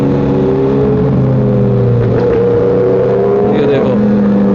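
A motorbike with a loud aftermarket exhaust rumbles and revs on a Saturday night ride, a steady close engine drone rising and falling throughout, with faint voices beneath.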